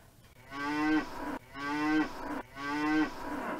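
A cow on a 300-cow dairy farm moos three times in a row, each long, nasal call rising and then cut off, evenly spaced and fairly close, with no talking.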